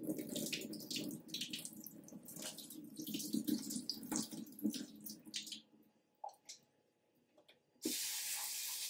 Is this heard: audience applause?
no